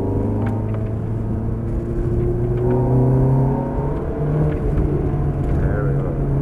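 An exotic sports car accelerates on a race track, its engine rising and falling in pitch through several revs, with an instructor's voice talking over the engine.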